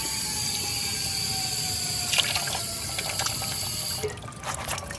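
Water runs continuously in a steady, rushing stream, with a few brief splashes toward the end.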